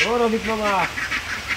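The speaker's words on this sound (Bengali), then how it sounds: "এই হাঁসগুলো হচ্ছে খাকি ক্যাম্বেল হাঁস।" Khaki Campbell ducks, about eight to nine months old, giving a few raspy harmonic quacks up close in the first second, over a steady outdoor background, with a man calling out over them.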